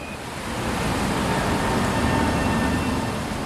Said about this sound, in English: What you can probably hear in the background is the sound of one of the weirs